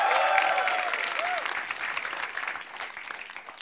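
Studio audience at an Indonesian televised stand-up comedy battle breaks into dense, steady applause that stays loud throughout, with a faint whistle near the start and no one speaking over it.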